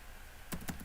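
Two quick taps on a computer keyboard while typing a terminal command, close and soft over a faint room hum.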